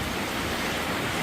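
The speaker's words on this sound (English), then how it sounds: "This little footbridge here is flooding underneath." River floodwater rushing under a small footbridge, a steady broadband roar of flowing water, close and unbroken for the whole moment.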